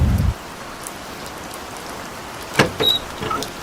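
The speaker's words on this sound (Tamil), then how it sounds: "அங்கிள் வெளியே ரொம்ப மழை பெய்யுது" Heavy rain falls outside in a steady, dense hiss, opened by a short low thump, with a few sharp knocks or door-like clatters near the end.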